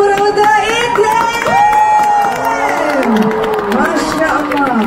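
A large concert crowd at a 25th anniversary show cheers and whoops loudly for nearly five seconds, shrill voices rising and falling over a continuous roar with some clapping mixed in.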